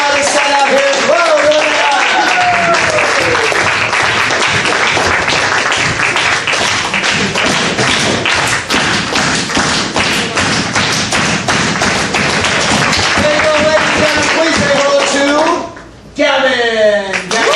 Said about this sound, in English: And while you're clapping, let's bring out